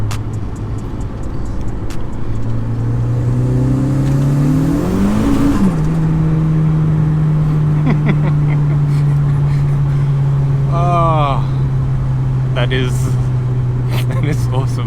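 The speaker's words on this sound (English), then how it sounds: "Third gear pull" A car pulls hard in third gear on a wet road, engine note rising steadily and loudly with boost, then holding a high sustained drone; a voice speaks briefly over it.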